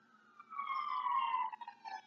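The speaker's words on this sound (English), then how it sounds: "Sorry, that siren just threw me off a little." A distant siren wails in one drawn-out falling tone, faint and alone against a quiet background.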